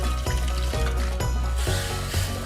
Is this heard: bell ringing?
no